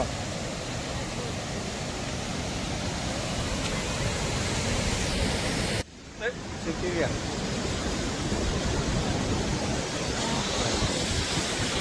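Rupse waterfall roaring in a steady, loud, broadband rush that fills the scene, with a sudden brief dip about midway before the roar resumes.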